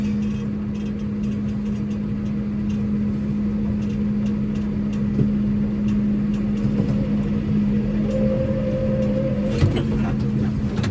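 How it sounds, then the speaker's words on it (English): A four-wheel-drive vehicle's engine drones steadily as it pulls on chains hooked to a load, a constant low hum with a higher whine rising near the end and a few clanks. "just going to give it a bit of 4-wheel drive"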